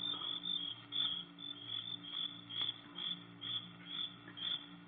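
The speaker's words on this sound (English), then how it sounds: "there wasn't a sound except the crickets, shrilling so loudly the noise seemed to beat inside my brain" Crickets shrill loudly and steadily at night in a radio drama sound effect, a dense pulsing chirr with regular beats, alone with no voices.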